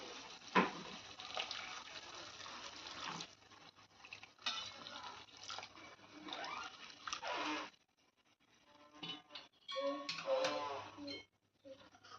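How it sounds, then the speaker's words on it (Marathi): Hot water poured little by little into a simmering egg curry in a pan, producing soft splashing and gurgling with light utensil clinks, in uneven bursts separated by quiet moments. "आता आपण जे गरम केलेलं पाणी होतं ते थोडं थोडं करून टाकायचं आहे"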